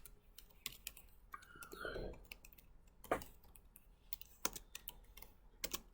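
Quick, irregular clicking of keys on a computer keyboard while code is written, soft and close, with a brief murmur of movement in between.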